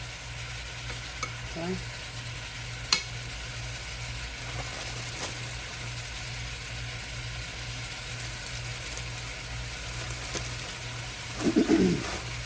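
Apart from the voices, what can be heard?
stirring French cut green beans cooking in a pan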